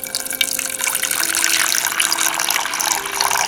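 A cup of water is poured for cooking soaked red beans and chickpeas, a steady close splashing gush that runs for a few seconds with no talk over it.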